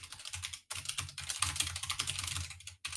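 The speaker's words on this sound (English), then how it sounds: "That's very aggressive typing." Fast, forceful typing on a computer keyboard, a dense run of loud clattering keystrokes with two brief pauses, close and with no voices.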